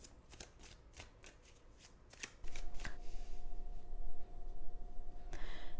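Tarot and oracle cards being shuffled by hand for a love reading, a run of crisp riffling flutters and soft slaps close up, growing busier and louder partway through, with no talk over it.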